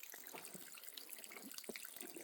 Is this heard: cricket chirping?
no